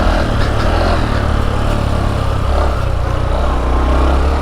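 Honda Trail 125 motorcycle engine while riding, a loud steady mid-pitched drone that holds continuously with slight rev variation and no talking.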